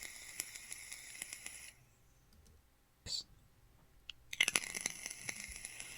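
Close, quiet hissing with scattered crackles and clicks from a vape, pausing briefly before a louder sizzling burst with sharp pops.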